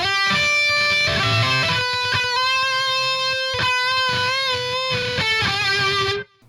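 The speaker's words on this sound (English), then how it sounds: "And then the lead guitar comes in and sounds like this." Melodic lead electric guitar riff, played alone with sustained, bending single notes in a flowing line, close and clear, then cut off abruptly.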